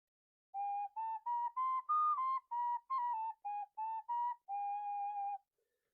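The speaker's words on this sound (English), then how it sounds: "It's based on his 4-hole Cherokee whistle model." A handmade four-hole Cherokee-style wooden whistle plays a simple melody of about a dozen clear, pure notes, mostly short with a longer final tone, close and alone with no talk.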